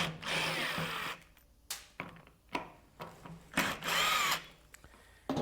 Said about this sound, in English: Got an electric drill here,